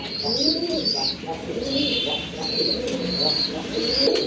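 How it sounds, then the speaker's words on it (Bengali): Desi pigeons coo nearby in low, rolling repeated calls, with a few high chirps mixed in and some background noise. "এখানে কিন্তু আরেক জোড়া দেশি কবুতর রয়েছে"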